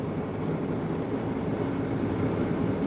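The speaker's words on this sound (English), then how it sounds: "Oh no, there's a truck." A truck rolling by on a British road, heard as a steady, dense, heavy rumble of traffic noise with no pauses and no voices over it.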